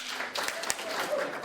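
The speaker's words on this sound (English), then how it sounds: "clap twice if you can hear me" A community conversation on housing in Yarmouth, where an audience answers a request with quick claps, short sharp bursts of clapping over a murmur of voices in a meeting room.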